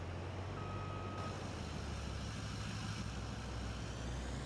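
A truck in Farming Simulator 22, working a cotton harvest, gives a short reversing beep over a steady, loud low engine rumble that runs throughout.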